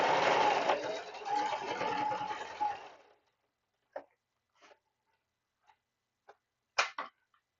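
Sewing machine running in a steady loud whir for about three seconds, then stopping; scattered small clicks and taps follow in near silence.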